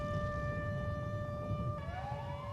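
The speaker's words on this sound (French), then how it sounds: "cette sirène a retenti dans 6 grandes villes des États-Unis" A tornado warning siren in a US city wails with a steady multi-tone pitch that then shifts and bends partway through, heard from a distance over low rumbling background noise.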